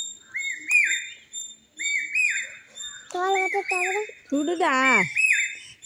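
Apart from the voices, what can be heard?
talking parrot calling while being fed guava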